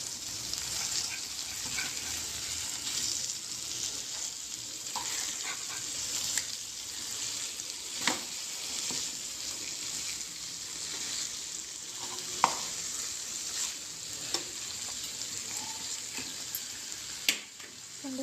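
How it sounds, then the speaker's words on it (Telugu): Green masala fish, hariyali fish fry, cooking on low heat in a pan, with a soft, fairly quiet continuous sizzle broken by several sharp pops and clicks of spatter, no speech. "ఫ్రై అయితే చాలా కుక్ అయిపోయింది. ఇంకా కొంచెం వేగాలి."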